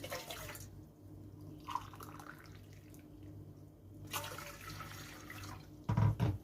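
Two cups of boiling water pour out for pineapple jelly with a soft, continuous splashing trickle, faint and close, swelling and easing between pours and ending in a brief, louder clatter.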